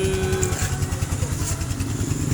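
Motorcycle engine revving steadily and loudly up close, a dense continuous mechanical roar with a pulsing low throb, during work on a bike whose lights flicker from a faulty voltage regulator.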